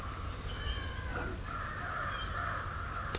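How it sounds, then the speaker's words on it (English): Crows caw repeatedly in an Oklahoma woodland on an October morning, harsh calls at moderate distance and fairly faint, overlapping in a loose irregular series with no one talking. "The crows are being obnoxious this morning"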